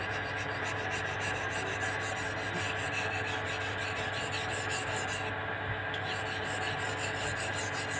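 Steel blade sharpened on a natural Asahan whetstone from Sumatra, a continuous close gritty rasping and scraping of the edge across the stone, steady and fairly quiet with no talking.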